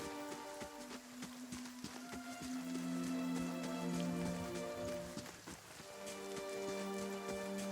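Rain falls steadily in a fantasy role-playing game world, Pillars of Eternity, with soft patter and scattered drops over a quiet ambient music bed and the occasional light footstep.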